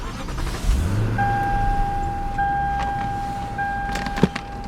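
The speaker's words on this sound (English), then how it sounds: "Another press of the button, and the car comes to life completely." A 2013 Lexus LS460 starting up: a brief low engine swell rises and settles into a smooth idle, while steady electronic chime tones sound over it and a soft click lands near the end.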